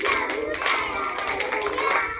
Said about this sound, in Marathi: नऊ टाळ्या वाजवूया